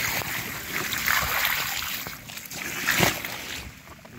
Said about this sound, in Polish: Czekaj, Maciek, jak go zleję wodą?